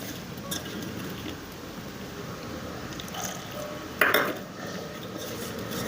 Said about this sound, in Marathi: हाताने असं मिक्स करून घ्यायचं.